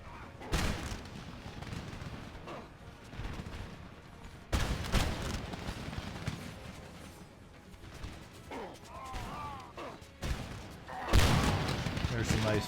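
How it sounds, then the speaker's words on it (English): Ranks of musket-armed infantry fire volleys by rank in the battle game Empire Total War, sharp crackling bursts arriving in several waves over a busy battlefield din, with a voice talking underneath. "There's some nice fire by rank going on here."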